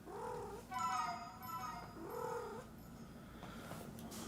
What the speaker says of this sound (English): When this cat is in heat, she will not leave me alone.